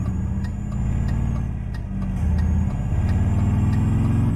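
A ZIL truck engine in Euro Truck Simulator 2 runs close and loud, a steady low mid-pitched rumble that shifts and rises slightly in revs partway through, with faint periodic ticking over it.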